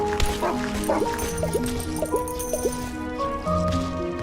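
A dog barks and yips several times in the video game Never Grave, short sharp barks spaced across the clip over a busy musical game soundtrack.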